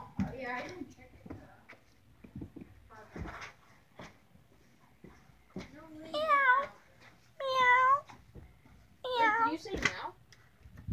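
A person imitates a cat, giving three drawn-out meows spaced a second or two apart, with scattered quiet speech and rustling between them.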